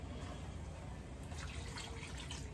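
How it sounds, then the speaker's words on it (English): A cup of water poured into a very hot pot of simmering liquid on the stove, a steady close rushing splash of water lasting a few seconds with no voices. "I am going to add another cup of water to this"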